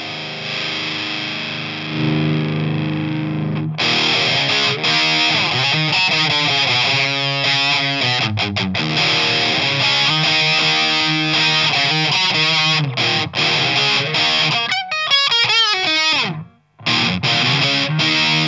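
Electric guitar run through a DOD Metal X FX70 distortion pedal with low and high controls turned up, heavily distorted chords and riffs played alone, loud and saturated, with brief pauses between phrases.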